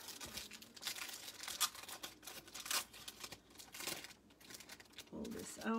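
Sheets of decorative botanical print paper are handled and unfolded, producing irregular crinkling and rustling bursts up close, with a brief louder crackle near the end.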